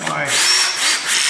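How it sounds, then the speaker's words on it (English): A cordless drill with a clutch whirs briefly up close driving screws during a Harley-Davidson Softail Deuce oil change, its motor pitch rising as it drives, with a faint rubbing grind underneath. "drill set with a clutch, so you can't over tighten"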